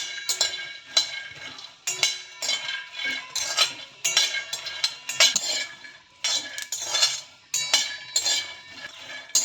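Peanuts dry-roasting in a pan while a metal spoon stirs them, giving a steady run of close, bright scraping clinks and rattles in irregular bursts, with no voices.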